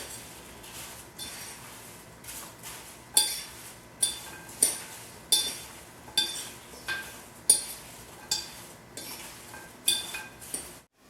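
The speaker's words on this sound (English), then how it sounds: "Stir it up like this." Apples with sugar and flour stirred in a bowl for apple pie, a utensil clinking against the sides in a steady run of sharp taps and scrapes, fairly close and without talk.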